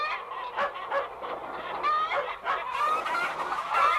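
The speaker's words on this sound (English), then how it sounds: "Shooing the hens into the roost." Hens cluck and squawk as they are shooed into the roost, a busy run of overlapping calls, close and fairly loud, with excited, rising bursts toward the end.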